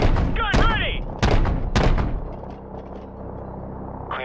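Heavy cannon rounds from an AC-130 gunship in Call of Duty 4 thump in a few booming bursts amid radio chatter, followed by a low rumbling battlefield bed.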